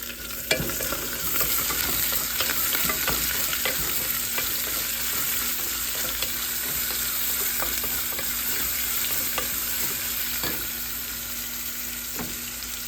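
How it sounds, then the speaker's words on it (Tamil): Onions are sautéed with curry leaves and whole green chilies in a pan, a steady close sizzle with stirring scrapes and clicks running throughout, no voices. "வெங்காயம் நல்லா வதங்கிடுச்சு"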